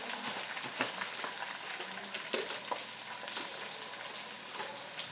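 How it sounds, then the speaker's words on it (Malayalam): Green chilli, bitter gourd, onion, ginger and garlic saute in a hot pan, giving a continuous bright sizzle with occasional soft scrapes and taps of stirring, close and steady without any talk. "എല്ലാം കൂടെ ഇട്ട് പച്ചമുളക്, പാവയ്ക്ക, ഉള്ളി, ഇഞ്ചി, വെളുത്തുള്ളി ഇതെല്ലാം കൂടെ ഇട്ടിട്ട് നമുക്ക് ശരിക്കും വാട്ടി വെക്കാം"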